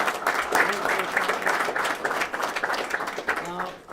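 A crowd at a New York governor's public safety announcement applauds, moderate clapping from many hands that rises and falls over a few seconds, with voices and cheers audible through it.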